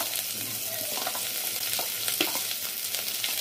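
Chopped garlic, three cloves' worth, and one chopped onion sizzle and fry steadily in hot oil in a pan for masoor dal, a continuous close crackle with light stirring scrapes and no talking.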